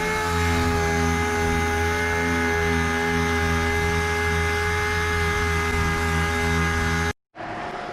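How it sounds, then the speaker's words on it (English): Power sander held flat, feathering out bad spots in the bodywork of a 1959 Dodge Coronet; a steady, close, high-pitched whine runs continuously, then cuts out briefly and starts again. "Notice I'm holding my sander flat."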